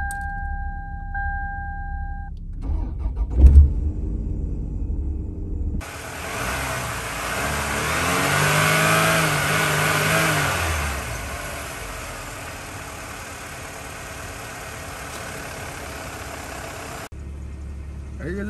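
Car engine idling after fresh spark plugs and ignition coils were fitted, heard close as a steady, even hum after a few clicks and a brief thump, running smoothly for about ten seconds before cutting off.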